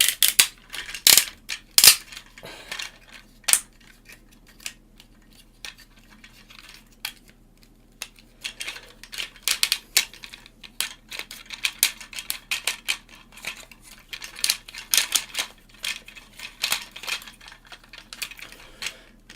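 Plastic transforming toy car, a Hello Carbot Lucky Punch, being folded back into vehicle mode: a close series of sharp plastic clicks and snaps, dense and irregular at first, then scattered, then clustering again, with no voice.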